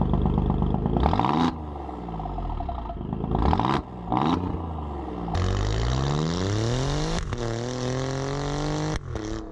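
Alfa Romeo Giulia Quadrifoglio exhaust in race mode, loud close revs that climb and fall in several bursts with crackling pops between them, the engine note rising sharply to high pitch and dropping back, with no talk.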